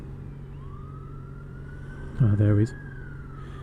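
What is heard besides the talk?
emergency vehicle siren heard while riding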